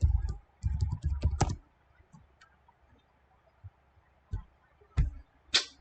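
Bursts of typing on a computer keyboard, quick clusters of clicking keystrokes close up, followed by a quiet stretch and a few isolated louder key taps.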